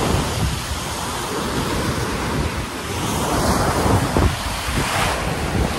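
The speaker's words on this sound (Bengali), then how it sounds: "বিশাল জোরে ঢেউ মারছে" Strong sea waves crash onto a beach in Bengal, a loud, continuous roar of surf mixed with heavy wind buffeting the microphone, with no one talking.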